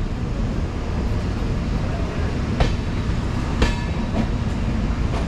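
A Humsafar Express train rolls on after pulling out of Ranaghat, its steady rumble of wheels and carriages continuous throughout, with a couple of brief sharp clanks standing out near the end.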